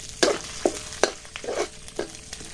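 Thai curry paste stir-roasting in a pan makes a close frying sizzle broken by several distinct spatula scrapes and clacks at an uneven rhythm, no voices.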